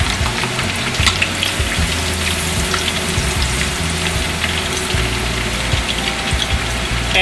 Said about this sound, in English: just continue with the next batch until you finish deep frying all your tofu